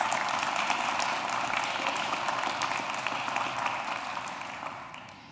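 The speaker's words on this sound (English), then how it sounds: "So let's give our panelists a warm welcome, a round of applause." An audience claps to welcome panelists at a 2019 MLK Jr. student roundtable discussion, a dense wash of applause that holds steady and then tapers off toward the end.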